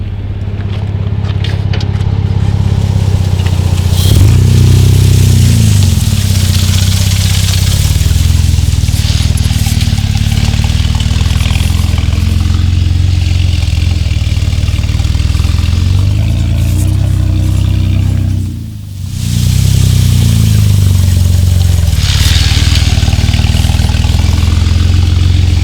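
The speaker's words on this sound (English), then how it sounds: "It was bogging down, not enough RPM." Jeep Wrangler JK fitted with 5.38 gears, engine bogging in first gear on light throttle: a low, strained, rumbling drone with little rise in revs, steady and close, briefly dipping near the end.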